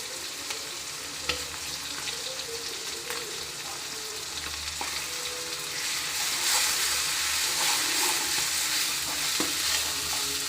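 Ginger garlic paste frying and being stirred into chicken with livers for a simple chicken curry, a steady close sizzle with scraping stirs that swells louder and hissier partway through.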